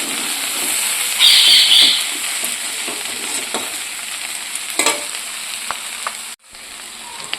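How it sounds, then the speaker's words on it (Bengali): Small fish and vegetables frying in a pan as they are stirred, with a close, continuous sizzle, a louder burst early on, and occasional scraping clicks from the utensil, with no voices. "এই দেখো আমি কিন্তু মাছটা দিয়ে দিয়েছি, মাছটা দিয়ে আরেকটু কষিয়ে নেব।"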